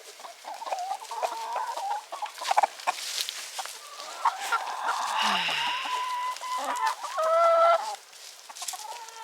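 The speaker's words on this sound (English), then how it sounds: "Chickens." Backyard chickens cluck and squawk in short bursts through a quiet evening, with a sharp rising cackle near the end and a few soft background noises.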